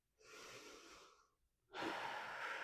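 A slow breath during a beginner yoga flow: a soft, airy inhale, a short pause, then a stronger, louder rush of breath, heard close and faint with no speech.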